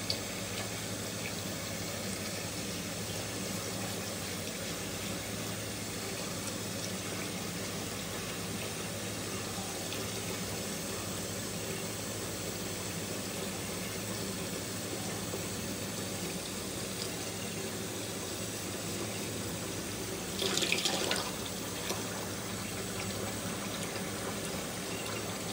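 A tap runs steadily into a sink basin being filled for a morning shave, a continuous close rush of water with no talk, briefly swelling near the end.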